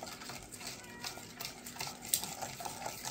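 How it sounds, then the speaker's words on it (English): A spoon mixes and scrapes a thick homemade spam or spiced ham meat mixture around the sides of a bowl, giving steady soft scraping and squelching strokes at low level. "So just going to mix it really good together here, get all the lumps out as best you can, scrape it off on the sides."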